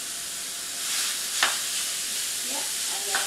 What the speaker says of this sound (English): And then just, you know, mix that around.